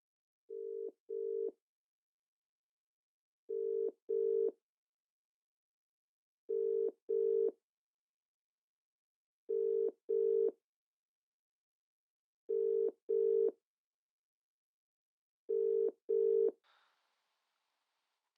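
A telephone ringback sounds while a call to a mobile phone goes through, six evenly spaced double-beep pairs about three seconds apart, clean and moderately loud over silence.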